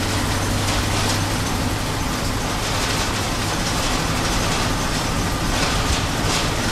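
A 1966 International school bus engine running rough and in need of a carburetor rebuild, a loud, steady low rumble with a constant mechanical roar throughout and no talking.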